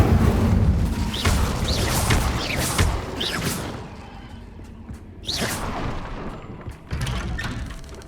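An Incendio fire spell cast in Hogwarts Legacy, heard as a few sharp whooshing bursts and booming flares of flame, with louder hits near the start and two more bursts later, no talking.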